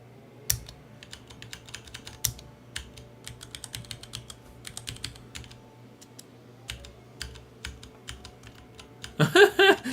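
Computer keyboard keys are pressed during GUI navigation testing, scattered single taps and short bursts of typing at close range over a faint steady hum, ending in a quick cluster of louder presses.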